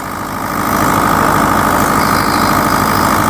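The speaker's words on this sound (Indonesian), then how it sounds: "Ciri khas bunyi mesin Isuzu." An Isuzu diesel generator engine idles steadily and close by, a loud, even rumble with a rhythmic knocking pulse and slight rattling that swells in over the first half second.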